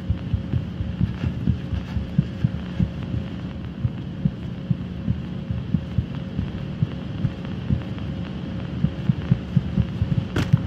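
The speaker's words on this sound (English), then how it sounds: "Do you get the heartbeat effect if you hear it?" Heartbeat effect from the horror video game Apeirophobia: a steady, low thumping pulse repeating through the whole stretch over a quiet droning hum, with no voices.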